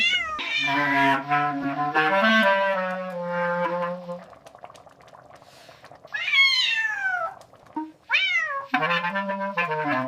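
Stray cat meowing in long, drawn-out cries, several loud close calls with rising and falling pitch separated by brief pauses.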